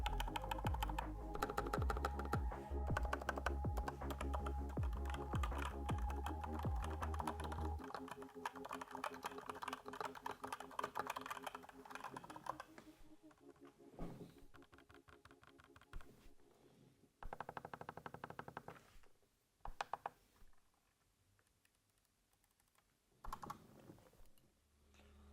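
Typing on a Razer BlackWidow V4 Pro mechanical keyboard, rapid clicky keystrokes in dense bursts that thin into sparse, separated presses with pauses, close and clear with no talking.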